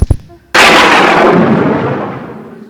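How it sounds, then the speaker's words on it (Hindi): Stage thunder effect from a live Hindi theatre play: after a brief low thump, a sudden loud broadband crash swells and rolls on, slowly fading like distant rumbling thunder, with no voices over it. "कैसे बादल गरजे।"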